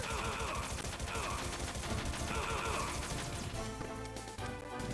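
Gunfire in Metal Gear Solid, rapid bursts of shots rattling loudly and densely over game noise and music, with no clear gaps between volleys.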